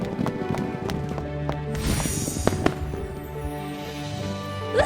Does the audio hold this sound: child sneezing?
no